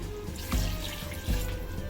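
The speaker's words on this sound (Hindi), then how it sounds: "अब मैं इसमें ऐड करूंगी 1 गिलास पानी" A glass of water poured into chicken white korma in a pan: a soft, running water sound with two brief, louder splashing surges.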